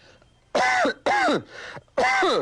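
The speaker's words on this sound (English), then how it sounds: "Well, you cough." Three loud, close coughs in quick succession, with a softer breathy throat sound between the second and third.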